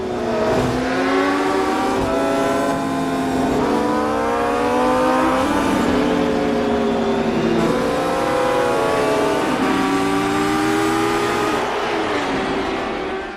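MotoGP motorcycles race past, their high engines revving and shifting in rising, overlapping sweeps, loud and continuous with several bikes layered together.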